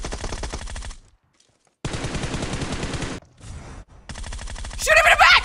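Rapid automatic gunfire in Vale's shooter game comes in loud, dense bursts, broken by short near-silent gaps. A brighter sharp effect cuts in near the end, and there is no talking.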